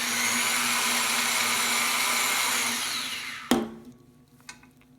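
A powered tube coping machine set up to cut 4-inch tube runs with a steady, loud motor whine and grinding hum, then winds down and stops with a sharp clunk, followed by a few faint knocks.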